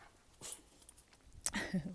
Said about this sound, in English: if you hear some distracting noises, don't worry, that's the dogs